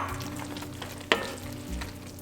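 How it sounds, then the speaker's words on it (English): Roasted red peppers being stirred into a one-pot chicken and chorizo pasta, a steady close sizzle with a single sharp clack of the spoon midway, no talk. "And just stir those in."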